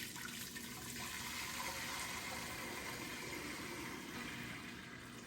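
Heavy vegetable broth is strained, giving a steady, faint, continuous gush of liquid pouring with no pauses.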